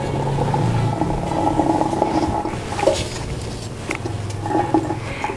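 Hot water is poured off boiled jackfruit in a kitchen, giving a continuous rushing, gurgling drain sound with some clattering of the pot.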